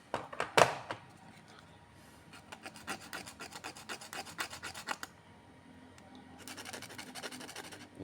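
Sandpaper rasps a small plastic gear thin, giving rapid rhythmic scraping strokes close up, with a brief knock at the start, a quieter pause and then another burst of quick rubbing.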